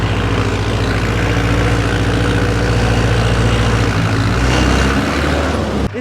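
Mahindra Arjun 4WD 50 HP tractor engine running hard, a loud, close, steady diesel drone with strong low harmonics that holds evenly before cutting off abruptly near the end.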